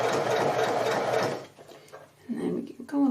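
A sewing machine stitches a quilt test block in a steady whirring burst for over a second, then stops as a person begins talking.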